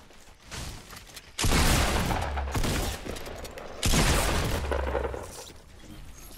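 A minigun in Fortnite fires in two sustained, dense bursts of rapid gunfire, loud and close, each rolling on for a couple of seconds over softer game noise.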